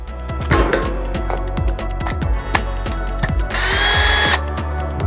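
A Milwaukee power tool cuts through part of the air-conditioning system in a Proton Satria Neola, with loud rattling, grinding bursts and a sustained high-pitched screech near the end, close and continuous throughout.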